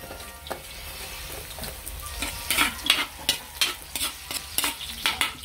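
Garlic and ginger sauté in a pan for chicken binakol, with a steady sizzle under repeated loud scraping strokes of a spatula that quicken toward the end.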